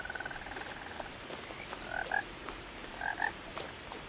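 A frog croaks in What Remains of Edith Finch, two short paired calls sounding clearly over a quiet ambient bed, with an earlier brief chirping trill at the start.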